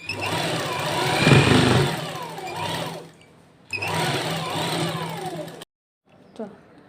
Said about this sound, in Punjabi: ਹੁਣ ਆਪਾਂ ਅੱਧੇ ਇੰਚ ਦੀ ਸਲਾਈ ਲਗਾਵਾਂਗੇ ਪੈਰ ਛੱਡ ਕੇ